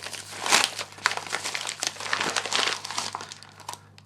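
A flimsy paper bag package holding a guitar overdrive pedal is ripped open nearby, giving several seconds of bursty crinkling and tearing with uneven rustles and no speech.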